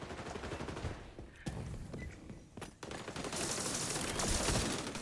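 Dense gunfire from the video game XDefiant fills the whole stretch, sustained automatic bursts and rattling shots that stay loud and continuous, with no speech over them.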